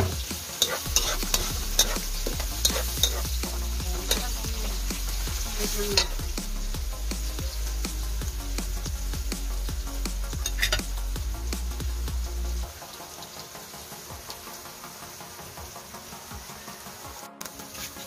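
Garlic and onion sauté in a hot pan for Brazilian beef caldereta, a steady loud sizzle with frequent spatula scrapes and stirring clatter up close, the frying easing off toward the end.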